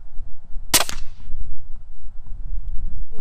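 A suppressed Barrett M99 .50 BMG rifle firing a subsonic round outdoors gives a single sharp, cracking report with a brief decaying tail, set against a constant low rumble of wind.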